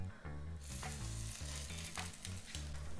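Polish-style stuffed eggs fry in a pan with a loud, steady sizzle that swells as they go in, and faint clinks come from the pan.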